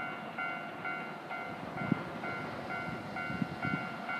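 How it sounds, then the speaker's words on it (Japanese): A KiHa 40 series diesel train on the rapid Nayoro service pulls into Nagayama Station, giving a steady, moderate rumble under ringing station tones, with no voices. "1番線に列車が到着いたします。"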